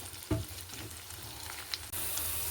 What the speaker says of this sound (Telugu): అల్లం వెల్లుల్లి పేస్ట్ ఒక రెండు స్పూన్లు వేసి మాడకుండా దోరగా వేయించుకోవాలి